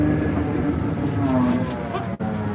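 A new Versatile 210 tractor with 13 hours on it drives along with a steady engine drone, its pitch shifting as the range is changed, heard from inside the cab under faint talk.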